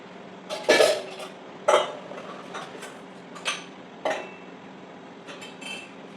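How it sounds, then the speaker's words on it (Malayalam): A spoon scrapes and clanks against a pan as chicken masala powder is mixed into a dish, making several irregular metallic knocks up close that grow fainter toward the end. "ഇത് ചിക്കൻ മസാല നന്നായിട്ട് മിക്സ് ചെയ്ത് കൊടുക്കാം"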